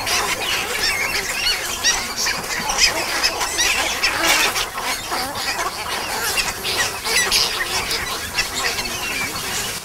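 Nesting bird colony with chicks of all ages, a loud, dense chorus of overlapping honking calls, squawks and cheeps filling the scene continuously and close by, with no quiet gaps.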